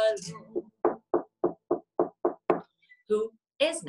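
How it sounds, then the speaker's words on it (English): Knocking on a door, a run of about eight evenly spaced raps close by, framed by a voice speaking before and after. "Who is knocking on our door?"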